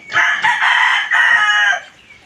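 A rooster at a small rural farm crows loudly and close by, one long drawn-out call with a brief break in the middle, heard alone with no talk.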